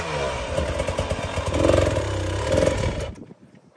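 A dirt bike engine revs hard and steadily in second gear for about three seconds on a steep rocky enduro hill, rising and falling in pitch, then cuts off abruptly into quiet.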